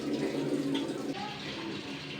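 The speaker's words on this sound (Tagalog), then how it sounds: "Ay, nagkakarga na siya ng tubig." A Panasonic washing machine drawing in water, a continuous rushing fill heard close, with a voice partly over it.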